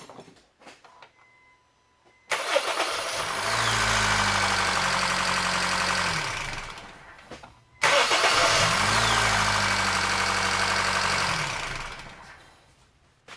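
2009-2013 Honda Fit engine, with a newly replaced starter, cranked twice: each attempt starts with a brief whirring crank and catches into a loud, steady idle lasting several seconds before cutting off, close up, with no talking.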